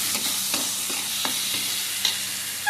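Tomatoes fry in a pan for dhaba-style dal tadka, a steady close sizzle broken by repeated scraping strokes as they are stirred, with no voices.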